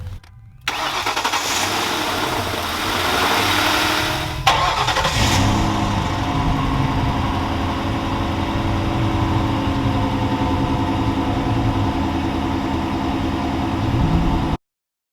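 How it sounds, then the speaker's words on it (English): A 2005 Lincoln Town Car engine cranks briefly after a fresh battery is fitted, catches with a loud burst, then settles into a steady, close idle that runs until the end. "now we're gonna crank it and see if it starts"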